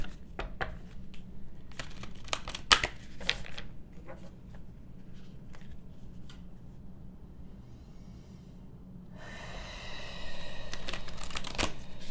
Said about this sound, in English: Let's now take another deck and pull the cards here.